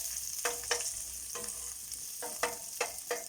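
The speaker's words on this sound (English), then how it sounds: "I just dump in both the garlic and the onion." Garlic and onion frying together in a pan, a steady close sizzle with a handful of sharper scraping stirs breaking through at uneven intervals, with no voices.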